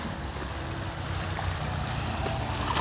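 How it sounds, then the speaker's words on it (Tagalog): Strong sea waves rolling onto the shore ahead of an approaching storm, heard as a continuous loud wash of surf mixed with gusting wind rumble and no voices. "malakas yung alon ng dagat at may parating na bagyo"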